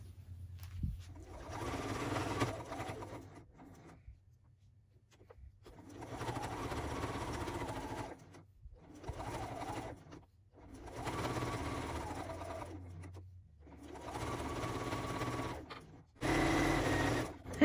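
A sewing machine stitches fabric alphabet letters in several runs of steady mechanical whirring, separated by short pauses, close and fairly quiet with no talking.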